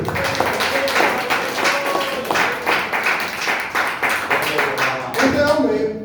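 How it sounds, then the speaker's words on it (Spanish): A church congregation claps together in a steady rhythmic beat, with voices and a sung tone carrying over the clapping and the room sound staying full throughout. "Bríndale fuerte aplauso a Cristo"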